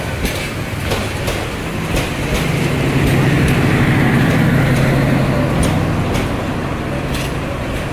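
Jayantika Express intercity train entering Maijgaon railway station, a loud close rumble with rhythmic clickety-clack of wheels over rail joints that builds midway and runs throughout, with no voices over it.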